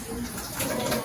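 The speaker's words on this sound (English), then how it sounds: "the water's warm, so we'll get that poured in there" Warm water is poured into a bowl while making sourdough bread, a steady close splashing trickle lasting about a second with a slight swell midway.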